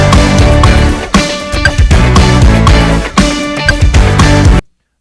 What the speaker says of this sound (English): Big interlude instrumental there.